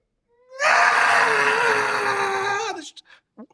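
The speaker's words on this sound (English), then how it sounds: "this female scream in your ear" A woman's long, strained scream rises and holds for about two seconds close to the ear, then breaks off into a few short gasping breaths.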